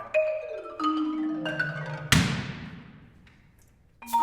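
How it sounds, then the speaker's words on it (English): A single loud bang of a bedroom door slamming shut, ringing out and fading slowly, set between soft melodic tones. "shutting her door with a loud bang."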